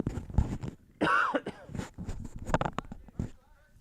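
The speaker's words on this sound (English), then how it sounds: "Took in a little bit too much dust doing some work down on the farm, so I got a little bit of a hacky cough." A dry, hacking cough brought on by inhaled farm dust, several rough bursts with a throat clear, close and fairly loud, mixed in with talking.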